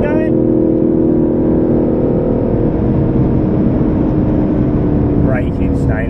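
An Aston Martin Vantage races around the Silverstone circuit, its engine a loud, steady drone with constant harmonic tone throughout, rising slightly near the end as revs climb.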